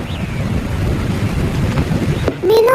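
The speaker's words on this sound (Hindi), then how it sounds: "बाहर बहुत तेज बारिश है" Heavy cartoon downpour: a dense, steady rush of rain with a low rumble underneath that may be thunder, holding for over two seconds before a voice begins to speak at the end.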